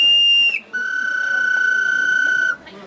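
A shrill, pure whistle played on a mandarin orange leaf imitates the call of a black kite. It gives a short high note, then a long steady tone lasting about two seconds, loud and close, with faint background noise.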